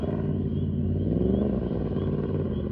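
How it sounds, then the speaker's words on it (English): A small learner motorcycle engine rumbles nearby, rising briefly in pitch as the throttle opens, then settling back to a steady growl. "It's hitting the gas there. I can hear that."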